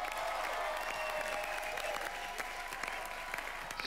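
An audience claps loudly and continuously for a Bollywood film on a comedy TV show, a dense steady burst of applause.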